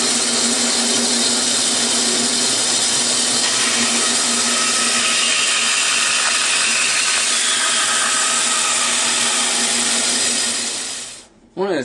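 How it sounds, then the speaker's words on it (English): A drum oscillating sander shaping a wooden violin-construction fixture, a loud continuous motor whine with rough grinding texture running nearly twelve seconds before cutting off. "sand to shape using the drum oscillating sander"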